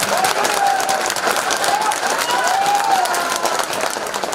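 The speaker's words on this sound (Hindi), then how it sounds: "ताली बजाओ, जोरदार बजाओ।" A large crowd at a public welcoming ceremony for a Rajasthan politician applauds loudly and continuously, dense clapping filling the whole stretch with faint shouts mixed in.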